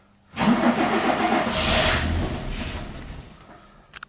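A Fiat 130 engine cranks and catches, turning over loudly at close range, then running roughly for a couple of seconds and fading back down as if about to stall, with a short sputter at the end.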